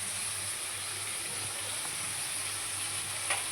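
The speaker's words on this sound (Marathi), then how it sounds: "याला पण छानसं भाजून घेऊया" Liver pieces roasting with salt in a pan, a steady hissing sizzle that stays even and close throughout, with a faint low hum underneath and a small stir near the end.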